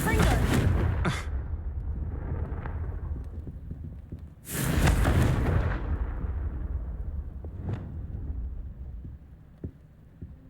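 Confringo blasting spell exploding in Hogwarts Legacy, a burst at the start, a second loud booming blast near the middle, and then a sharp crack, rumbling over a steady game ambience.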